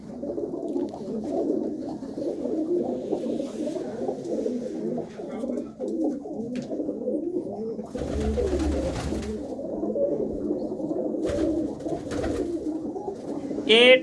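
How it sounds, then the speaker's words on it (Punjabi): Pigeons in a loft, among them a black Chinese hen pigeon, coo in a steady low murmur that runs throughout, with occasional soft flutters and a brief higher call near the end. "ਹੁਣ ਕਬੂਤਰਾਂ ਨੂੰ ਪਤਾ ਲੱਗ ਗਿਆ ਤੇ ਆਪੋ ਆਪਣੇ ਖਾਨਿਆਂ ਦੇ ਵਿੱਚ ਬਹਿਣੇ ਸ਼ੁਰੂ ਹੋ ਗਿਆ"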